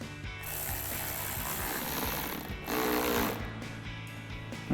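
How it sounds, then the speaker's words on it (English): A hand ratchet with an 8mm socket tightens an intake clamp on a Jeep Wrangler JL 2.0L turbo during a cold air intake install: quick, close, repeated clicking strokes with brief pauses between bursts. "We're going to take our ratchet with our 8mm socket and tighten that down."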